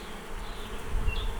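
Honey bees buzz around an open hive during a weekly inspection, a close, dense droning hum that swells slightly toward the end, with no talking over it.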